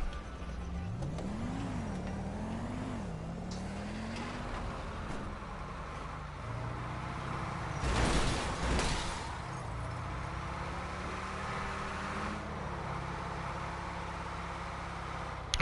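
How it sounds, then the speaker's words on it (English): A car drives along in a video game, its engine humming steadily with rising and falling revs and a brief louder whoosh midway. "I'm gonna drive over to the spot."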